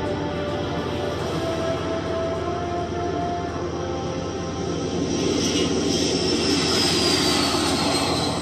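Engines of a B-52 bomber give a loud, steady, broadband roar that lasts the whole stretch, with a faint high whine rising near the end.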